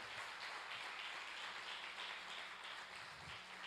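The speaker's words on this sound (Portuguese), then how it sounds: "Quero pedir um aplauso bem bonito para os nossos papais." A church congregation applauds the fathers during a Sunday service, a steady wash of clapping from many hands that holds evenly for a few seconds without breaks, fairly faint in the room.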